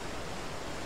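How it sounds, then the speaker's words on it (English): Steady broadband rushing of a waterfall in the LEGO Jurassic Park video game, an even continuous hiss held at constant level for the whole moment with no voices. "Okay, that's a waterfall."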